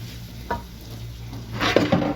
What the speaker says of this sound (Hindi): इसको हल्की सी आंच में आपने फ्राई करना है, हल्की सी आंच।